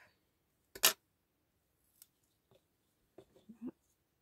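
Scissors snip through thin card in a quiet room, giving one sharp cut followed by several short, quieter snips spread over a few seconds.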